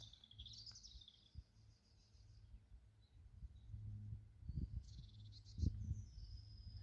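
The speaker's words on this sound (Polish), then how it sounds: "Nie wiem, czy słychać, ale ptaki." Faint birdsong chirps high above a low, steady outdoor rumble, with a few scattered soft thumps; the calls come in short bursts from some distance.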